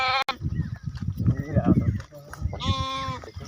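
Sheep being given injections on a large flock farm let out bleats, one short cry early and a louder, longer bleat near the end, while people talk nearby throughout.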